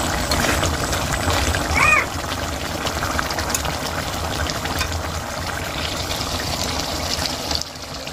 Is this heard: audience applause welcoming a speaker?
no